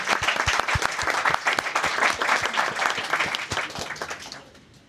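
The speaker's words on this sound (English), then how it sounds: "a big round of applause" A crowd applauds at a game jam award ceremony with dense, steady clapping that carries on for several seconds, then thins out and fades away at the end.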